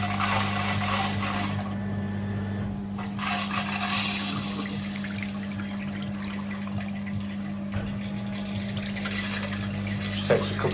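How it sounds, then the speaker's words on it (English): Hot water running hard from a tap on a gravity-fed system, with a shower pump switched on to boost the flow; a steady, loud rushing gush with a constant low motor hum underneath, no talking. "That's hot water pressure with the pump on."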